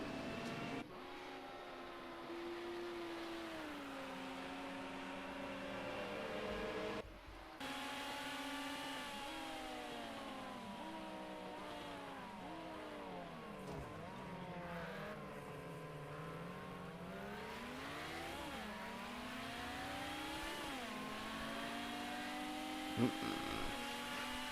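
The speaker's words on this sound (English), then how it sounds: "that is me driving the Audi Quattro" An Audi Quattro car drives with a continuous engine note that rises and falls through gear changes and revs, heard steadily from inside or close by for the whole stretch.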